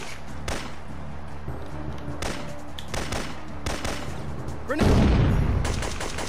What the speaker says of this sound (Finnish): mä ammuin hutiin